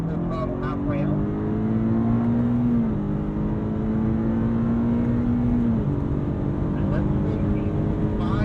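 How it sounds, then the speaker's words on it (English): A 2022 BMW M5 CS on a race track accelerates hard at full throttle, its engine note rising steadily, dipping briefly at a gear change and climbing again, loud and close throughout. "Squeezing on the throttle, finally full throttle halfway out."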